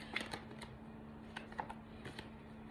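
Cards are shuffled in several short, crisp bursts of flicking and riffling, close by, over a faint steady hum.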